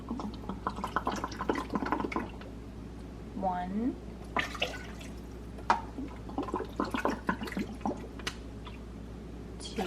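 A thin stream of water runs into a container in short bursts, with a person speaking and counting over it.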